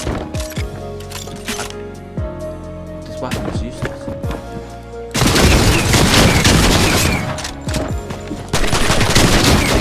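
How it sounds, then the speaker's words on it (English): Rapid SMG bursts in the video game Fortnite, repeated short volleys with no voices, growing to a denser, louder stretch of sustained fire in the second half. "Now, SMG, I shot him so many times and he didn't die."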